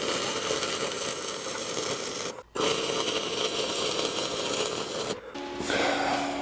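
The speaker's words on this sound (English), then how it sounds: "So just a lot of welding here" A steel skid is arc welded with a steady, loud crackling buzz that runs continuously, breaks off briefly twice as the arc stops and restarts, then carries on alone.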